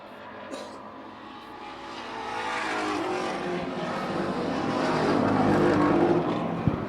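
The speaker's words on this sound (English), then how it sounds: "That thing is misfiring as he gets shuffled back to fifth." Street stock race cars roaring around a track, engine noise building from moderate to loud as cars pass, one car misfiring during the race.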